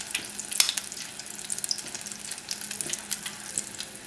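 Popcorn shrimp frying in hot oil near 400 degrees, a close, steady crackling sizzle with sharp pops scattered throughout, no voices.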